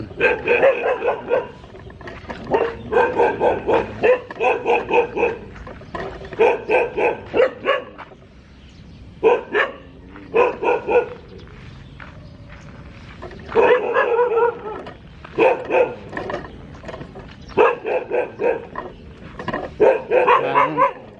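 Dogs bark from two directions in repeated rapid bursts, loud and close, with short pauses between volleys over the full stretch.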